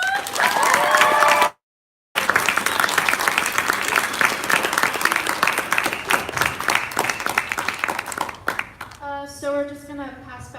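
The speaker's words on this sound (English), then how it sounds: "A big round of applause to the showcase squad" An audience gives a big round of applause at the India Showcase 2018 school event, loud dense clapping that breaks off briefly, then resumes and thins out before a voice speaks over the last claps.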